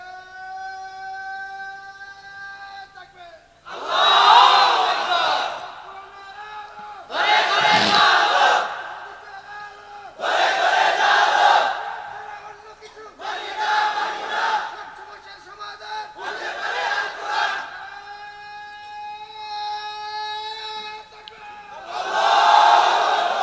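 At a Bangla religious sermon gathering, a single voice calls out a slogan and a large crowd roars it back in unison, again and again, loud bursts alternating with the lone leader's line.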